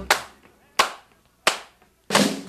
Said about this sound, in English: Come on, everybody, and clap your hands real loud.